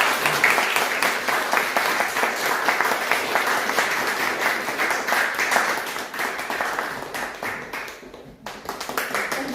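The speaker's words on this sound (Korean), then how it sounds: "앞으로 오실 때 우리 박수로 환영하도록 하겠습니다." A Korean church congregation claps steadily to welcome a guest speaker at a Sunday testimony service, a dense, sustained round of applause that dips briefly near the end before picking up again.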